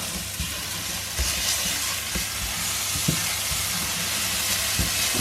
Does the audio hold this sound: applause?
no